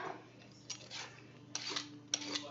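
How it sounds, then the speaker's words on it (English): A Pampered Chef vegetable peeler scraping along a vegetable in a home kitchen: a few quiet, quick rasping strokes, close but faint, over a low background hum. "That's the Pampered Chef vegetable peeler."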